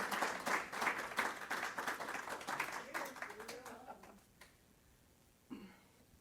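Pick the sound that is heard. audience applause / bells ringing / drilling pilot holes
audience applause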